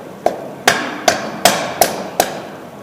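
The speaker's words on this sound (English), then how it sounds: "using the soft end of the hammer handle, you are going to hold on to the ring compressor and gently tap the piston down inside of the" A hammer handle's soft end taps a piston through a ring compressor into a small engine cylinder: six sharp, evenly spaced knocks about every 0.4 seconds, close and clear with no talking.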